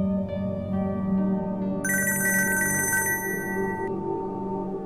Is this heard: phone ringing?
yes